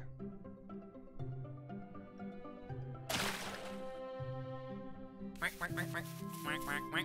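Repeated cartoonish duck quacks from the video game Stream Animals sound over a backdrop of game music, the quacks coming in quick bursts, loud and close.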